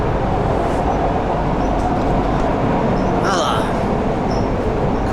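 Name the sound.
commuter train riding from Penang Bazaar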